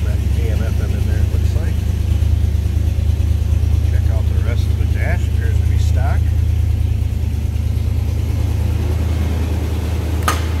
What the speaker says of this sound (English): See, that car starts easily.